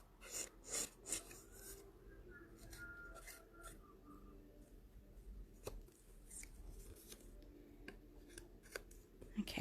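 Scissors cutting through card along a pencil line, a run of short crisp snips and rasping strokes close by, loudest at the start and then continuing more quietly throughout.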